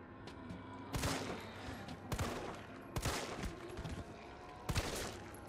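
Gunshots in the video game Resident Evil 3 ring out as four loud, sharp blasts spaced roughly a second apart, each with a short echoing tail over low background game ambience.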